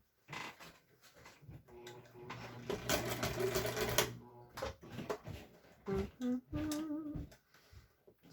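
A sewing machine stitches a quillow in short bursts, its motor whirring up and stopping several times, with one longer run in the middle and clicks and handling noises between the runs.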